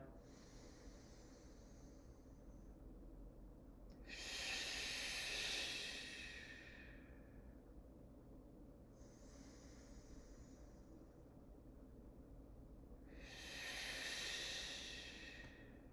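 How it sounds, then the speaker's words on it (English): Two slow, deep breaths during an exercise session, each a long airy inhale-exhale rush several seconds long, close to the microphone over a quiet low background hum. "a couple of deep breaths"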